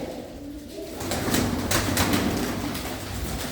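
Pigeons kept by a fancier coo softly and steadily, a low murmuring that swells slightly after the first second and carries on with occasional faint chirps in the background.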